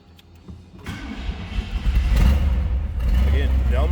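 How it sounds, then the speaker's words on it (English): A 1969 Chevrolet Corvette convertible with a numbers-matching 350 V8 and automatic transmission cranks briefly, then fires up and settles into a loud, rumbling idle up close, with a voice heard near the start. "We'll start it up, let you hear it run"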